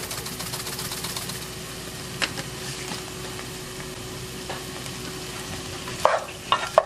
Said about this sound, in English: right now we're just going to cook these onions down